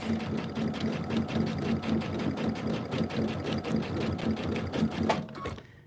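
Sewing machine stitching fabric for June Tailor's Casablanca project, a steady, rapid mechanical whirring rhythm running close and continuous before stopping abruptly near the end, with no talking.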